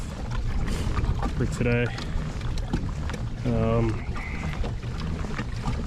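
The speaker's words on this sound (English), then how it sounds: "this wind really kicked up out of nowhere" Gusty wind roars steadily across open water around a fishing boat on a cold winter day, a constant rushing blow with mic buffeting, while someone talks briefly over it.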